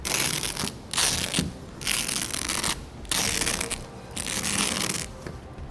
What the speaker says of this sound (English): And then you can easily roll it up towards the bulkhead.